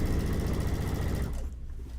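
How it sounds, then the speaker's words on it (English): A sewing machine stitching quilt binding, running steadily at a fast rhythmic clatter close up for over a second before slowing and stopping, then a quieter mechanical hum. "I'm going to back stitch a couple stitches."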